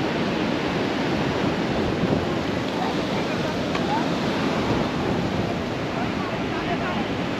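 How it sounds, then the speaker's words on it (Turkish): Ocean waves roll onto a beach in Bangladesh in a steady, broad rush of surf mixed with wind buffeting the microphone, with faint talking beneath. "Dalgalara bak ya."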